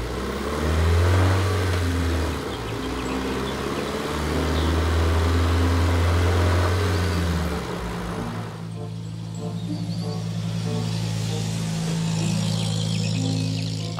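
A self-propelled toy cargo truck runs along with a loud, continuous motorized whir whose pitch wavers and shifts midway. The drone stays close and prominent throughout, with no talking.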